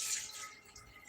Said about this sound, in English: my water cooler's right over there. So I fill up 1 cup